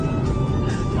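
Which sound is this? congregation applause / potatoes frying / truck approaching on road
truck approaching on road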